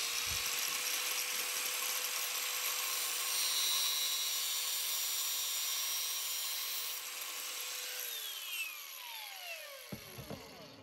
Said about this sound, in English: Now, first I come in and I cut it with our cutoff wheel.